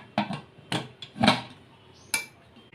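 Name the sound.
putting the lid on a pressure cooker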